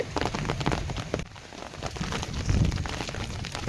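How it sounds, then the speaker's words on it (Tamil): Steady rain patters loudly on a surface, a dense continuous hiss with scattered heavier drops and a brief lull partway through. "திடீர்னு மழை வர ஆரம்பிச்சிருச்சு"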